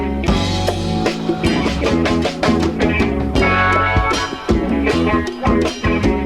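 Hip-hop beat loop built from a chopped sample that has been pitched down and slowed for a gritty feel, with steady punchy drums over thick, warm sampled chords, loud and continuous without any talk.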